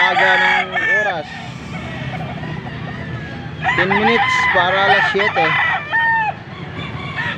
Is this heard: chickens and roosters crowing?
yes